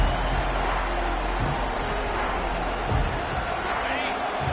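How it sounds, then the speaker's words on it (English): Football stadium crowd roaring in a broad, continuous wash of cheering, loud and distant-sounding, with talk mixed in over the noise. "this crowd is fired up. Listen to this noise here."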